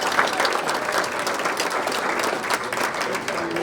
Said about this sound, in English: a round of applause for everyone here at the club